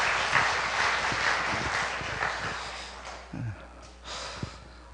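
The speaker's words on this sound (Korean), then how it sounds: "힘차게 격려의 박수 한번 쳐드리죠" Church congregation clapping together in encouragement during a Sunday afternoon praise service, a dense sustained patter of many hands that thins out toward the end, with a few breaths and small vocal noises near the close.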